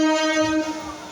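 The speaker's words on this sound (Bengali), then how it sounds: "ট্রেন ঢুকছে এক্সপ্রেস" An express train hauled by a WAP7 electric locomotive enters Bandel Junction station, its horn blaring loud and close in one brief sustained tone over a low rumble.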